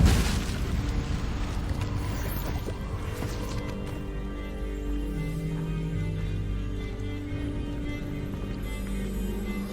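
An Incendio fire spell in Hogwarts Legacy on Xbox Series X bursts with a heavy whoosh and boom at the start, then settles into a low, sustained rumbling roar of flame.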